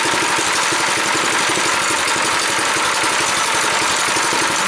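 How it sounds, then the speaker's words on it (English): A small engine on a homemade wooden go-kart runs close and loud, a steady rattling idle with a fast chugging pulse and no change through the stretch. "So I'm going to start up the engine."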